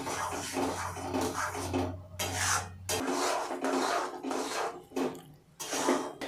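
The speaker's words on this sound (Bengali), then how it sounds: "দেখুন বন্ধুরা, এইভাবে নাড়তে হবে যাতে জলটি শুকিয়ে যায়।" Semolina (suji) being stirred in a kadai as its water dries off, with a steady scraping and rasping of the spoon against the pan in uneven bursts and short pauses.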